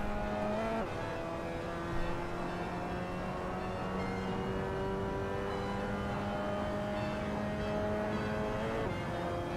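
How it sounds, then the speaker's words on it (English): A race car in a realistic racing simulator game laps a track with a continuous, fairly loud engine whine, its pitch stepping up and down through the gears. No voices are heard. "We're just driving around the track."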